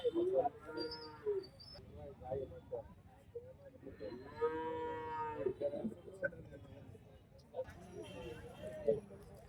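Cattle and calves at the Tiruvannamalai Deepam livestock market give several drawn-out moos, some close and loud, between stretches of people talking nearby amid a busy market hubbub.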